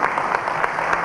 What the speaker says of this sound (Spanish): Ese aplauso es para ellos.